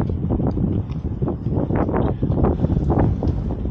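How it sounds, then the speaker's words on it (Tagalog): Strong gusting wind buffets the microphone outdoors on a melting-ice bike trail, loud and continuous with rough surging bursts and no voices. "lakas ng hangin"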